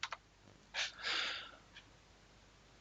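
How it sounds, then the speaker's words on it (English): A few light, quick clicks from typing a command on a computer keyboard, faint and close against a quiet background. "right now we can start our project by typing npm init"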